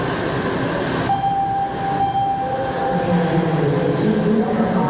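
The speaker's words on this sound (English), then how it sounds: "that's an indication that the train is on its way" Washington metro train arriving at a subway platform, a steady loud rumble of rolling cars with a thin squealing brake tone and rising low roar as it pulls in, close and continuous.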